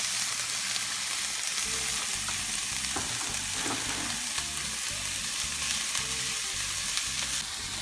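Food fries steadily in a hot pan beside a pot of boiling pasta water, a continuous bright sizzle with occasional stirring clicks and no talking.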